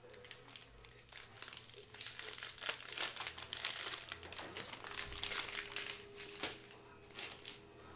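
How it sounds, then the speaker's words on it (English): Crinkling and tearing of plastic as a cello pack of Panini Prizm football cards is ripped open, a steady close rustle with faint crackles throughout, no talking. "Rip that pack."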